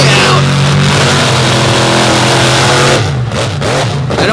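Race car engines roar loudly and continuously at an all-star championship final on a muddy dirt track, a dense wall of revving with a slight dip and fluctuation near the end.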